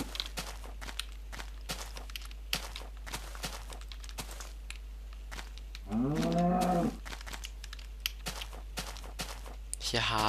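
A Minecraft cow gives one drawn-out moo in the middle, amid a rapid run of blocky footsteps and clicks, with no talking over it.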